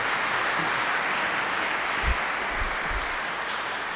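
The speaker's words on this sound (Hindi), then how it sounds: "हम अपने डीकनों के लिए भी तालियां बजाकर शुक्रिया अदा करें।" Congregation applauding its deacons inside Sacred Heart Cathedral, Lahore, during a Chrism Mass: a steady wash of many hands clapping fills the whole stretch evenly, with a few low thumps near the end and no speech.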